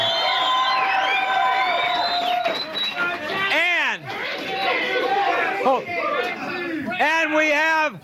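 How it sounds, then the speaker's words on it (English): A crowd cheering and whooping loudly, with many overlapping rising and falling shouts and whistles, strongest at the start and again near the end. "a big cheer from my producer, my beautiful wife, Janice George"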